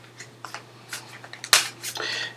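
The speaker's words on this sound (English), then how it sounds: "I'll give my cards a shuffle." A deck of tarot cards is shuffled close up in a few quick riffles and flicks, with short rustling bursts and a sharper snap near the end.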